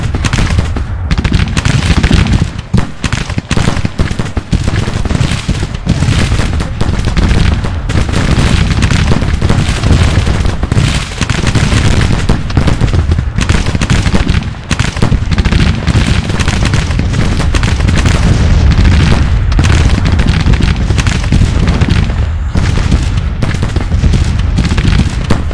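Musket volleys and artillery fire in the video game Grand Tactician: The Civil War, a dense, loud, continuous roar of crackling gunfire and heavy booms with no pause.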